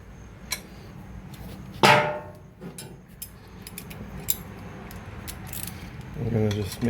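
Metallic clinks and a brief ratchet whir as 8mm bolts are tightened on a Grom clone engine, scattered close tool taps with a longer ratcheting burst near the end.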